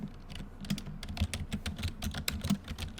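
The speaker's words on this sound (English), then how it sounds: "typing in the search bar." Rapid, uneven keystrokes on a computer keyboard while text is typed into a search bar, close and clear with no talking.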